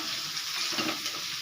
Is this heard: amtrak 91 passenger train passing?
no